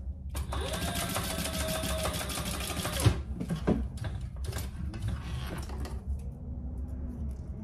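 Sewing machine stitching a hip bag, a steady close whir running for about three seconds, then shorter stop-start bursts and handling clicks before the motor falls quiet.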